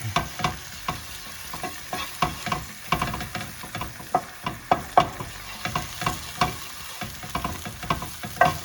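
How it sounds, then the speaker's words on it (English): Flour browns with butter and olive oil in a pan, a soft, continuous sizzle broken by regular scraping strokes of stirring, close and alone. "we just want to start to brown off that flour a little bit"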